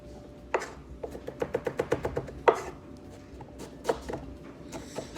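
A knife chops chili, coriander, garlic and ginger into small pieces for dumpling filling, with crisp taps on a board, including a quick run of even strokes and scattered single chops, close and clear.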